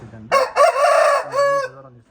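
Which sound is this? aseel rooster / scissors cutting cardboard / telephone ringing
aseel rooster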